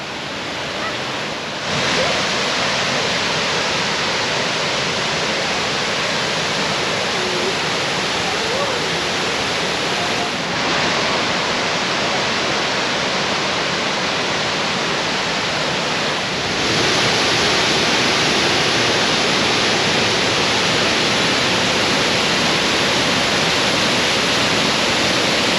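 A waterfall swollen by recent heavy rain roars steadily, a loud, dense, unbroken wash of rushing water close to the microphone, with no talking heard over it.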